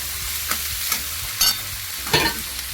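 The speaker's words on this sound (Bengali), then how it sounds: "সমস্ত সবজিগুলি আমি এখানে দিয়ে একটু নেড়ে নেব।" Vegetables and green peas being stirred in a hot pan for Bengali-style suji upma, with a steady low sizzle and several distinct scraping stir strokes spaced through the short clip.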